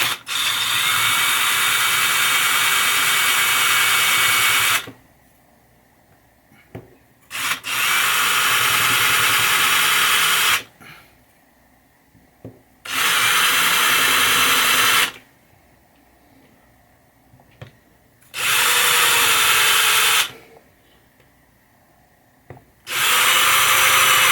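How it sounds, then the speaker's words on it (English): A power drill running in reverse, cutting holes in a 1980 Williams Firepower pinball machine, whirs loudly in four bursts of several seconds each, separated by short pauses, close and steady while running. "We're going to put the drill bit in reverse and cut on these holes."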